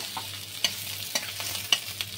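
Mixed vegetables for Bengali hingche shukto are stir-fried in a pan until reddish, a soft sizzle under a steady low hum, punctuated by several sharp scrapes and clinks of a spatula against the pan, without speech.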